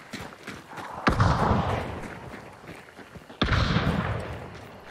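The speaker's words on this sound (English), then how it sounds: "Keep an eye on the northeast, because that's where the gunfire was." Distant gunfire in the Hunt: Showdown video game, with two sharp reports about two seconds apart, each followed by a long rolling echo that fades out.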